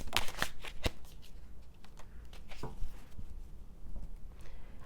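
Tarot cards are shuffled and drawn by hand, a soft run of quick papery riffles and flicks, close and fairly quiet, with no talking over them.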